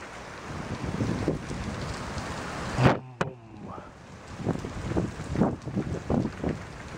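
Thunder rumbles during a storm with wind, a low roll building to a louder crack near the middle and then fading into a series of softer rumbling pulses under steady wind noise.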